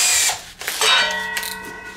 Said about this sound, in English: So we'll go through with a pilot drill first.